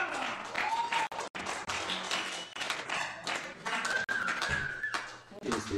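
Clapping from a comedy club audience, an uneven crackle of hands that rises and dips for several seconds, with voices and background music mixed in.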